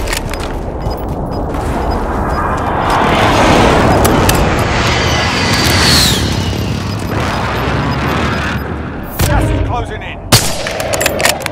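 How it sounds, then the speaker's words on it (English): Airstrike explosions and gunfire in a 3v3 shooter video game: loud continuous rumbling blasts and crackling fire building mid-clip, then sharp separate bangs near the end, with players talking over it. "Oh, they just airstrike them."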